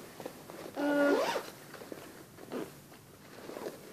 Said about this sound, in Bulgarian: А тук има с цип.